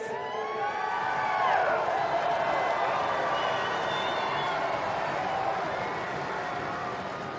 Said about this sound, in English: A big round of applause for Bay of Plenty, everyone.